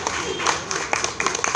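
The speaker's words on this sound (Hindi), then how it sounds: "जरा तालियों से रितु वोरा जी का अभिनंदन करेंगे।" Audience applause at a large public rally in Ashok Nagar, Delhi, welcoming the West Delhi municipal chairperson Ritu Vora; dense steady clapping from a crowd with voices mixed in, briefly.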